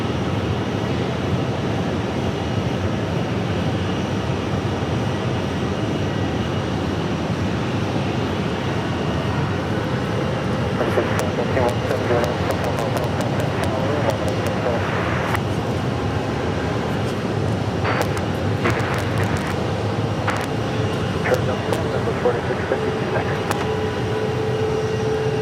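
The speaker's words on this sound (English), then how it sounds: "Looks like we'll have American Airlines coming in from San Jose Del Cabo. Flight 2118, Boeing 737." A steady, rumbling jet roar from an American Airlines Boeing 737 landing at Phoenix Sky Harbor runs loud and continuous throughout, with faint clicks and a voice talking over it.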